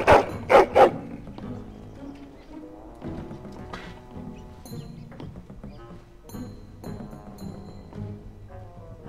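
Mabari war dog barking in the video game Dragon Age: Origins, a few loud barks up front, then fading under game music and ambience.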